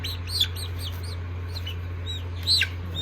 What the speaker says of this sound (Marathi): ही आली कोंबडी